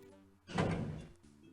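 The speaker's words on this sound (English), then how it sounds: "Let's check this door" A freezer door swings open in the point-and-click adventure game Sam & Max Hit the Road, a single broad whooshing thunk rising over quiet game music and lingering about a second.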